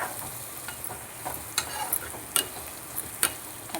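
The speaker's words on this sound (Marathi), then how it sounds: "आता मी भाजलेली आहे शेंगदाणे मिक्स करणार आहे. आता हे छान सगळं परतवून घेऊन" Roasted peanuts being stirred into frying kande pohe, a sustained soft sizzle with a few sharp scraping clicks of the spoon against the pan, close and steady, with no talking.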